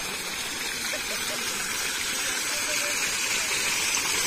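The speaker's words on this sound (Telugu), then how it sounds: "నీళ్ళు చూడండి, ఇటు పర్లుతుంది." Floodwater gushes over the Sri Rangarajupalli bridge near Hindupur after heavy rainfall, a steady, loud broadband rush filling the whole clip, with no words spoken over it.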